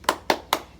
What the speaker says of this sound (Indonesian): Yuk kita tepuk semangat.